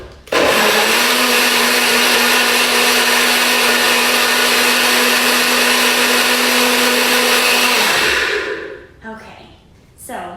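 A blender whirs loudly and steadily for about eight seconds, blending a berry and yogurt smoothie, then winds down and stops, leaving brief quiet handling sounds.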